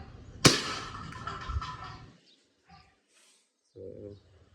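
WE G17 gen3 gas pistol firing a single sharp, loud crack that rings out briefly and fades, followed by quiet with faint brief voices.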